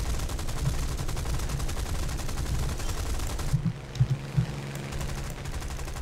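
Aircraft cannons firing in the War Thunder tank game, a rapid rattling fusillade that runs steadily for over three seconds, then stops, followed by a few heavier booming shots under continuous engine rumble.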